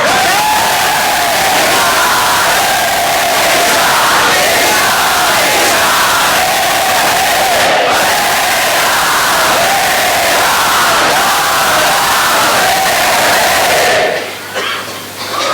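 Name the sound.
crowd chanting loudly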